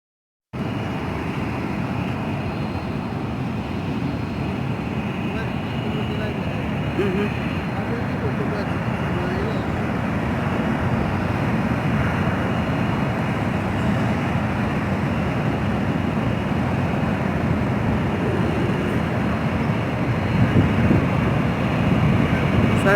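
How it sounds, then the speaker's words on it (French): Spirit airliner climbing away after takeoff, a steady broad engine roar heard from a distance over wind and background noise, sustained throughout with slight swells toward the end. "Ça c'est un avion Spirit, il est monté."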